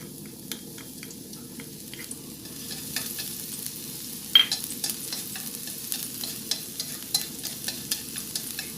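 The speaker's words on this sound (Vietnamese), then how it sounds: "Mình sẽ cho hành bô rô vô đây mình phi cho thơm nha các bạn." Steady crackling sizzle of leeks frying in oil in a pan, with occasional clinks and scrapes of stirring close by; no voices.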